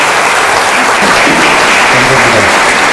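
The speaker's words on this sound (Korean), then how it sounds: "뜨거운 박수 한 번만 더 부탁드립니다" Sustained applause from a forum audience at the National Assembly Members' Office Building in Seoul, steady dense clapping filling the room at full volume throughout.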